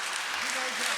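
A poetry recital audience at a Hindi comic kavi sammelan claps in a brief, continuous wash of applause, fairly steady and moderately loud with a faint voice underneath.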